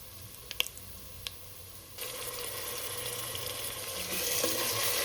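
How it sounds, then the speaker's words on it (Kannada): Mint-chili paste made with green chilies and salt is fried with onions in a pot for a jackfruit-mushroom biryani. After a couple of quiet clicks, a steady sizzle bursts in and carries on evenly to the end, with no talking. "ಹಸಿ ವಾಸನೆ ಹೋಗೋವರೆಗೆ ಚೆಂದಂಗೆ ಫ್ರೈ ಮಾಡ್ಕೊಳ್ಳೋಣ."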